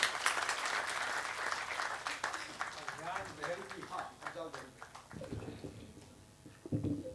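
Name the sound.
audience applause at a poetry gathering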